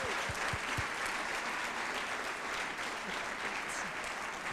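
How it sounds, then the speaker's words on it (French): A conference keynote audience applauds with sustained, even clapping throughout, a large room full of hands with a few louder claps near the start. "merci les applaudissements"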